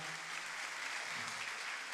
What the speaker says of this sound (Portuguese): Vamos aplaudir aí os jovens da nossa comunidade.